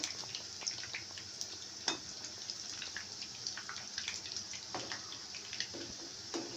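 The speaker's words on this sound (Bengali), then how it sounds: "তো এভাবে ভেজে নিতে হবে পাকোড়াগুলো" Puffed rice pakoras frying in hot oil, a steady fine crackling sizzle with scattered sharper pops throughout, close and fairly quiet with no voices.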